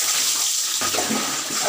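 Cold water pours and splashes steadily during an outdoor bath, a continuous watery rush that grows fuller partway through, close and moderately loud with no talking.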